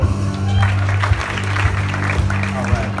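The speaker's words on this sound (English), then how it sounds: "Another round of applause." Crowd applause at an athletes' introduction event, continuous clapping over a strong low electrical hum, with speech mixed in.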